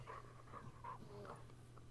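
A dog whines and pants in distress while being held down, with high strained whimpers rising over steady heavy breathing, close and fairly loud.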